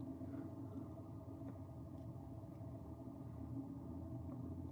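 Car engines rumble steadily outside at a distance, a continuous low, faint drone of passing road traffic with no voices.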